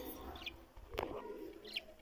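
A pair of budgerigars in a breeding box gives a few brief, high chirps that stand out against a steady low background murmur.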